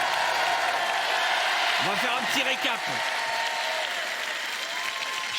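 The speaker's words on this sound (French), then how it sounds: "On peut les applaudir très très fort." A TV game show studio audience applauds steadily in a broad wash of clapping and cheers, with a host's voice speaking briefly over it midway.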